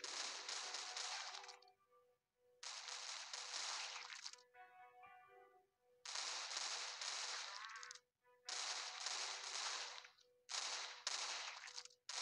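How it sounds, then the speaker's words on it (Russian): Gunfire in an Android mobile shooting game comes in five or six loud bursts of rapid fire, each a second or two long, with short gaps between them. "Стреляют, по крайней мере, метко"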